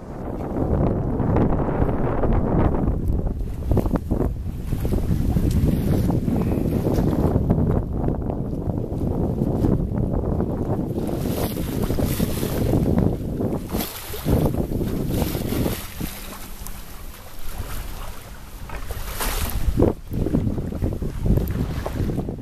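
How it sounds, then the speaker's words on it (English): A sailboat sails close-hauled in a brisk, freshening breeze, with constant loud wind rushing and buffeting the microphone over the wash of water along the hull, with no talk. "the tiller strains against its lash as we sail close-hauled to the wind, picking up speed in a brisker breeze"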